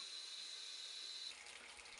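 Water runs steadily from a bathroom sink tap while someone brushes their teeth, a continuous hissing stream that shifts in tone partway through, close and alone with no talk.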